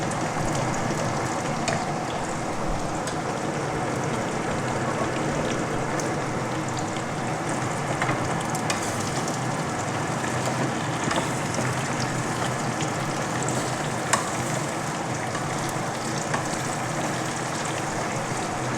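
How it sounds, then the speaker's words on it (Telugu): Baby capsicum fries steadily in a pan as tomato pieces go in, a dense continuous sizzle with small crackles and pops throughout, close and loud, with no talking. "ఇప్పుడు ఈ టమాటా ముక్కలు ఉన్నాయి కదా అవి వేసేద్దాం"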